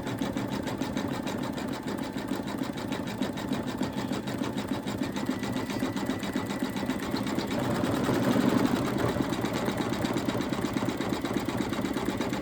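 An embroidery machine stitches an Easter bunny appliqué through layers of fabric, batting, fleece and stabilizer, with a fast, steady, even stitching rhythm running close and continuous throughout.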